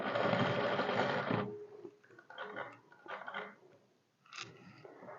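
A sewing machine runs steadily while stitching elastic into a trouser waistband, a loud continuous whir for over a second, then stopping and leaving quieter intermittent handling clicks and rustles.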